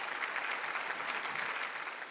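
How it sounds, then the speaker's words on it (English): An audience claps at the Tata Steel Steel-a-thon 2018 event, a dense, even round of applause that holds steady from start to finish without pause. "A round of applause, ladies and gentlemen, for every single one of you."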